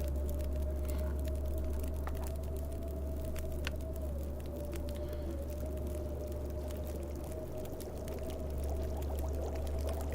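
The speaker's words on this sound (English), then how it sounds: "Let's actually heat up the soup, because the condition on it's kind of low." Soup heating over a fire in The Long Dark, giving a faint, steady, watery pouring and bubbling sound with a low constant hum and scattered soft ticks throughout.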